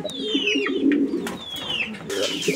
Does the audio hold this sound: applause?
no